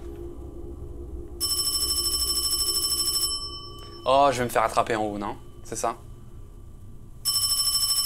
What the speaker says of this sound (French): il y a un téléphone qui sonne